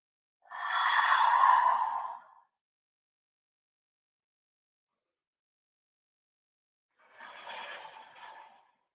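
Two long, slow breaths drawn during a yoga forward fold, soft and close with a breathy hiss, the second quieter and shorter than the first, separated by silence.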